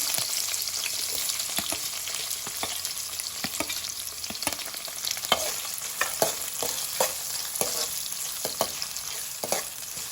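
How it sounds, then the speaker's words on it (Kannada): Onions frying in oil with cumin seeds and chopped green chili for a vegetable kurma, a steady close sizzle with frequent crackles and pops and occasional stirring scrapes throughout. "ಈರುಳ್ಳಿ ಚೆನ್ನಾಗಿ ಫ್ರೈ ಆಗಬೇಕು"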